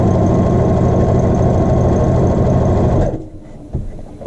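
A sewing machine stitches the facing down the center front of a child's shirt, running loud and steady with rapid even needle beats for about three seconds before stopping abruptly, leaving faint handling sounds.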